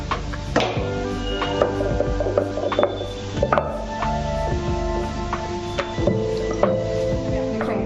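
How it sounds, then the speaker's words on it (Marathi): A wooden rolling pin flattens balls of wheat dough into rotis for homemade veg frankie rolls, giving repeated soft knocks and rolling thuds at close range over a steady tonal hum. "तर आता मी ते लाटून घेणार आहे."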